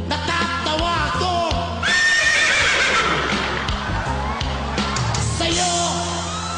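Someone imitates a horse, letting out loud quavering whinnies and clopping noises, with background music and a cheering crowd.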